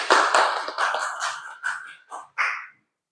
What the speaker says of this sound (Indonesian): Bapak kasih tepuk tangan dulu untuk kelompok 1